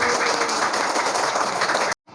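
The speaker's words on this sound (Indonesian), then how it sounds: "Tepuk tangan dulu." Students clap after a Quran recitation of Surah Al-Ma'un, a loud, dense burst of applause that stops abruptly near the end.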